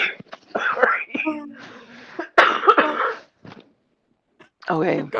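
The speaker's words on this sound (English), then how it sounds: "I'm coughing now." A person coughs in short, sharp bursts close to the microphone, mixed with brief speech and quiet pauses.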